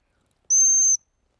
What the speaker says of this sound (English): stop whistle, clear as day, a long pip.